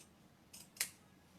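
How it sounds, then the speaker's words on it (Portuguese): Pinking shears snip through fabric while finishing the edge of a small garment for a toy rabbit, giving two close, crisp cuts, a lighter one followed by a louder, sharper one, with nothing else heard. "eu gosto de dar esse acabamento com a tesoura de picote"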